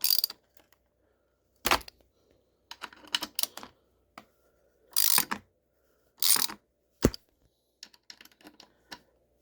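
A ratchet tightens handguard bolts on a 2022 Kawasaki KLX300 dirt bike, giving short separate bursts of clicking and metallic handling sounds with quiet gaps between them, close to the listener.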